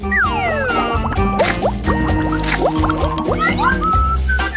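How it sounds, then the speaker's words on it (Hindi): A crab is dunked into a pot of hot water, with sustained close bubbling, gurgling and dripping sounds and rising liquid tones throughout. "केकड़े को गर्म पानी में डुबोना होगा"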